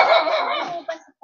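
A single short, rough dog bark rings out nearby outdoors in a Philippine village, loud at first and then fading into a faint tail.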